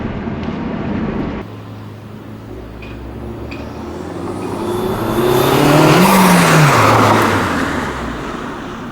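A Honda Civic Type R (FL5) with a PRL Stage One intake builds from a distant rumble to a loud roar as it accelerates toward and past, the pitch rising then dropping away.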